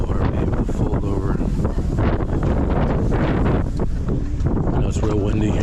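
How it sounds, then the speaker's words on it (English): Strong wind buffets the microphone outdoors at a ham radio swapfest in Benson, North Carolina, a constant loud rumble and roar filling the whole stretch, with voices faintly underneath. "I know it's real windy here."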